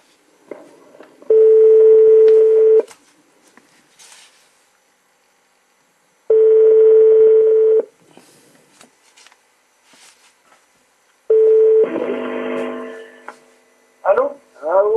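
Telephone line tones on a French office call, three loud steady beeps each lasting over a second and separated by silence, with faint clicks and a brief voice near the end.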